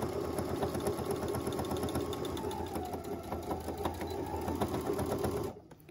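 Sewing machine stitching fabric for a homemade face mask, a fast steady mechanical whir close up, running continuously before stopping abruptly near the end.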